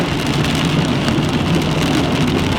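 Steady heavy rain pours down during a thunderstorm in Sheridan, Wyoming, without a break, a dense hiss of drops pattering on surfaces close by, loud and continuous.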